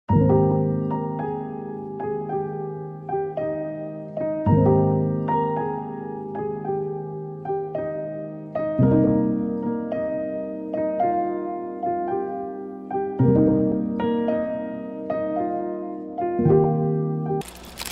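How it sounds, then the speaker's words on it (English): Soft, muted felt piano chords move through a slow progression while a gentle melody plays on top, warm and close, ending with a brief click. "the piano progression and the piano melody will sound like this."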